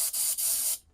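An airbrush sprays teal paint onto a body in close, steady hissing bursts, broken by two brief pauses before the spray cuts off.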